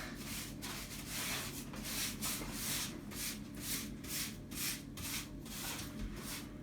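A brush scrubbing SBR bonding agent sealer onto a shower floor before a tray is installed, steady rhythmic back-and-forth strokes, close and soft, with no talk.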